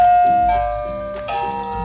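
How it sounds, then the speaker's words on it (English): An electronic Peppa Pig toy dollhouse doorbell chimes a short ding-dong tune, bright tones ringing out close by with no talking. "So let's ring the doorbell"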